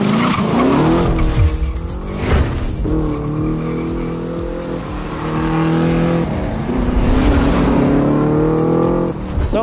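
A Mercedes-Benz 300 SEL 6.8 AMG tribute car, the "Red Pig", accelerating hard, its loud engine note rising through several revving pulls with gear changes and tire noise, close and dominant throughout.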